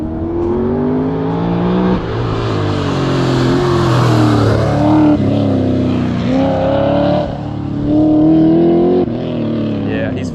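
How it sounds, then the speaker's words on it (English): A Corvette at an autocross course, its engine droning loud and steady while it works through the course, the revving rising and falling between turns, with people talking over it. "Here comes another Corvette."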